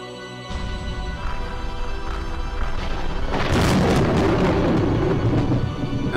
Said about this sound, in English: As the massive crimson tower that had fallen made a terrible gold-colored explosion.